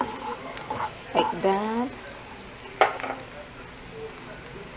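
Garlic sizzles softly in a pan while a spoon stirs it in short scraping bursts during squid preparation, and a person speaks briefly over the frying.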